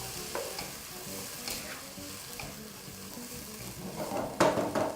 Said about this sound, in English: we're just going to allow that to continue just frying up